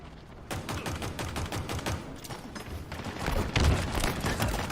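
Rapid bursts of automatic gunfire from Halo Infinite multiplayer rattle on continuously, loud and dense, with short gaps and heavier booms toward the end.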